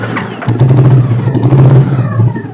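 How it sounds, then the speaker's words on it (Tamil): A petrol Royal Enfield Bullet motorcycle is self-started, its engine catching after a brief crank and settling into a steady, close, loud idle thump with no one talking. "ஃபர்ஸ்ட் ஆஃப் ஆல் நான் வண்டியை வந்து செல்ஃப் போட்டு காட்டுறேன் பாருங்கள்."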